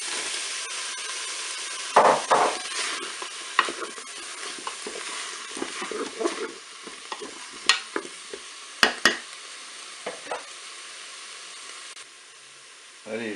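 Tuna dusted with curry powder and sliced courgettes sizzle in a Cookeo multicooker, with a spoon scraping and stirring in irregular clattering strokes over a soft steady fry.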